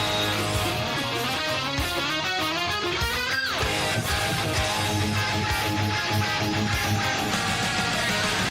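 Distorted electric guitar riff from a song, the section after the solo, played loud and dense with full band backing and a pitch bend sweeping through, no voices.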